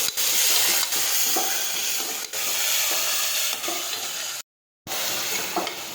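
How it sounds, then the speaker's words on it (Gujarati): Chopped tomatoes sauté in a hot pan for a Gujarati chori (long bean) curry, giving a loud, continuous sizzle with occasional scrapes of stirring and one brief silent gap. "હવે આપણે સમારેલા ટમેટાં નાખી દઈશું. હવે આપણે સાતળી લઈશું."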